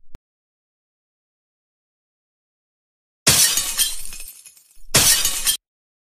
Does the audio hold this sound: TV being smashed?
yes